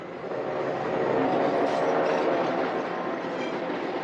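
A train rolls past at an even, loud level, with a continuous rumble and a faint clickety-clack of wheels on the rails that holds steady throughout.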